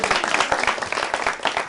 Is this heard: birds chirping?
no